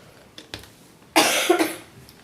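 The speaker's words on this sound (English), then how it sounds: "I'm trying not to cough on my phone." A single sharp cough close to a phone microphone, preceded by a couple of faint clicks in an otherwise quiet room.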